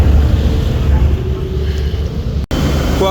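Passenger launch ships travelling on a river from Charmonai to Dhaka, a steady low engine rumble mixed with wind buffeting the microphone, with a brief dropout near the end.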